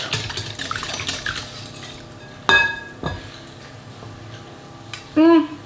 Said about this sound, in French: on ajoute 2 œufs entiers et on vient les mélanger à notre yaourt